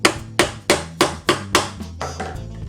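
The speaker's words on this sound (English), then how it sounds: "Just using the side of the hammer here." The side of a hammer taps a board game organizer piece into place, six sharp evenly spaced knocks followed by a couple of softer, quicker taps.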